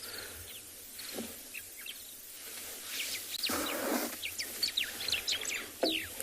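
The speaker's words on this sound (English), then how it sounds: "White-browed sparrow weavers busy saying good morning." White-browed sparrow weavers chirp and call in a South African morning bush setting, scattered short tweets close by over a quiet background, growing busier toward the end.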